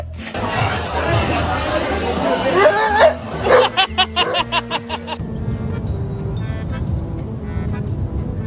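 A dog barks in a rapid run of sharp, repeated yaps near the middle, over background music and a man's chatter, with the barking fading as the music carries on.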